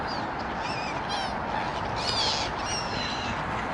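Birds call at dusk over a steady broadband outdoor hiss, with repeated short honking and squawking notes from several hens at moderate distance.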